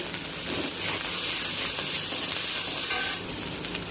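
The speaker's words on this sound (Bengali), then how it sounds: "মশলা খুব ভালোভাবে কষিয়ে নিয়েছে" A spice paste sautés in oil for a spicy crab curry: ground ginger, dried red chilli, cumin and coriander, with turmeric and salt. It makes a loud, dense sizzle that holds steady throughout, close by and with no speech.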